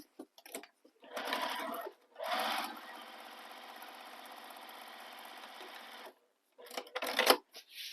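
Stitching around bag pattern pieces, a sewing machine whirs in short runs and one long steady stretch, close and clear, with small handling clicks in the pauses.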